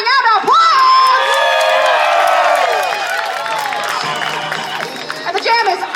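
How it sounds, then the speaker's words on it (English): A roller derby crowd at a freshie expo bout cheers and whoops loudly, with high excited voices shouting over one another, easing slightly midway and then swelling again near the end. "Can we get some clapping and applause?"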